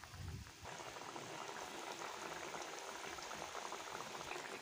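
Bata fish tamarind curry with fried fish pieces boils hard in a pot, a dense, continuous bubbling and gurgling close by, with no voices.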